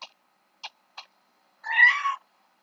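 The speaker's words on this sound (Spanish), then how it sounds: "No, no es el dirigible, está el gato llorando." A cat cries with three short, separate meows spaced apart, then gives a longer, louder drawn-out wail, close and clear against silence.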